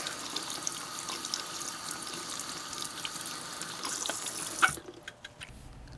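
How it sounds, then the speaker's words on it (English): Tap water running over an R/C car body during rinsing, a steady close rush of water hitting plastic in a sink that swells briefly and then cuts off near the end. "we'll just turn our water on and we'll give this a good rinse out"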